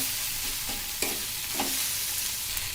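A Bengali cabbage ghonto curry with hilsa fish head and garam masala powder frying in a pan, a steady close sizzle broken by a few soft scraping stirs, with no voices.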